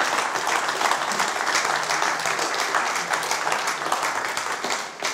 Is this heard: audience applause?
yes